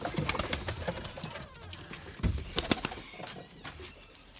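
Limoni breeding pigeons coo softly in their loft in Izmir, with bursts of wing flapping and scuffling close by, irregular and fairly quiet, mostly without speech.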